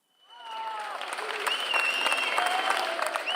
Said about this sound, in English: Workers at a food market down tools to applaud Madrid's regional president, the Conservative Isabel Díaz Ayuso.